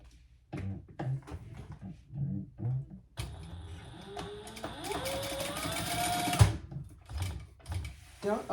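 Sewing machine basting soft vinyl for a crossbody bag, a close mechanical whirring stitch run of a few seconds, with short bursts and talk before and after.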